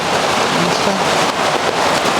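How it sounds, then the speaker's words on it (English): Steady outdoor rain hiss, a dense broadband wash of drops falling on surfaces, continuous and fairly loud throughout, with faint voices in the background. "here comes the rain"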